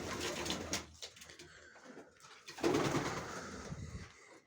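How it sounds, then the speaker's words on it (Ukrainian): Pigeons coo softly nearby in a loft, low throaty murmurs rising and falling, with scattered rustling and fluttering in a quiet enclosed space. "Голуби сидять."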